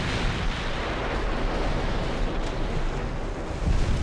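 Naval 8-inch guns fire in the game UA: Dreadnoughts, a dense, continuous roar of rumbling artillery and booming blasts filling the whole stretch at steady loudness, with no voices.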